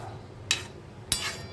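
A spoon clinks twice against a pan while vermicelli is stirred into milk for kheer, two short sharp metallic taps spaced about half a second apart over a faint background hum.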